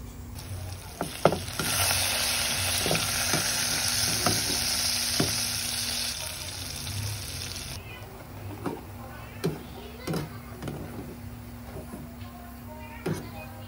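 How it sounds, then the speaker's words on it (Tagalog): Pork chop frying in a pan, a continuous crackling sizzle with scattered sharp pops and spatters, fairly close, with faint voices in the background. "Nagprito po kong pork chop guys."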